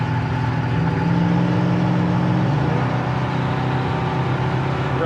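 1973 Chevelle engine droning at high speed from inside the cabin, a loud steady roar that shifts slightly in tone partway through as it slows.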